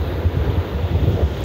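Strong wind buffeting the microphone over the rumble of big waves during a typhoon at the coast, a loud, continuous roar with gusty surges and no voices.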